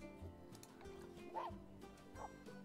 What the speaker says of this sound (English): Did they just bark?